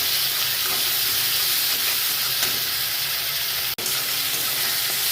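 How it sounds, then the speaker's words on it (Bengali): Ginger, garlic and chilli paste with garam masala fries in hot oil, a loud, unbroken sizzle and hiss with a single sharp tap near the end. "ভালো করে মশলাটাকে কষাবো"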